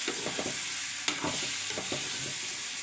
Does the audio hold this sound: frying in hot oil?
yes